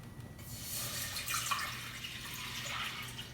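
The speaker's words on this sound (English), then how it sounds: "I'm going to put 4 cups of water to boil." Water poured from a tap into a cooking pot for boiling beans, a steady splashing gush starting after a brief pause and running on at moderate level, with no talk.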